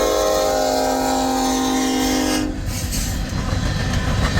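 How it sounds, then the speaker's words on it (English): An empty westbound coal train of Mid-America Power Company (MARX) cars rolls past loudly at Pacific Junction, Iowa, a sustained horn tone sounding for the first half before giving way to steady, close rumble and wheel noise. "we got a westbound empty coal drag"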